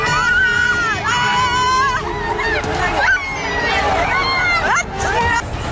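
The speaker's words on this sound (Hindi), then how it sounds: "भीड़ ने पुलिस कर्मियों को दौड़ा दौड़ा कर पीटा।" Unruly crowd in Nanded during a Holi-time clash with police, a dense roar of many voices shouting and yelling at once, loud and continuous with rising cries throughout.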